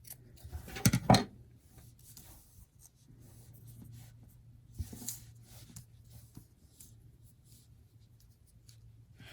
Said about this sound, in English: And I'll trim a piece of lace for this.